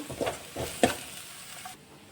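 Onion frying in a pan while raw banana manchurian is being cooked: a soft sizzle with a few stirring scrapes and clinks, fairly quiet and without talk.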